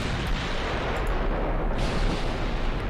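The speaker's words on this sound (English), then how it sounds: "I'm spotting the enemy at 30 kilometers? And I'm already opening fire." Warship guns open fire in the naval game Ultimate Admiral Dreadnoughts, a loud, continuous rumbling barrage of booms with no talk.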